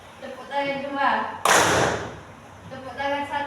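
A group of participants in a classroom ice-breaking game claps together in one sharp, loud burst, with a leader's spoken calls just before and after.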